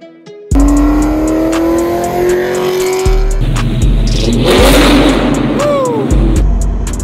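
A Lexus SC300's engine revs and climbs in pitch as the car first moves under its own power, loud and close, with gear changes marked by sudden drops and a rough, rising exhaust note.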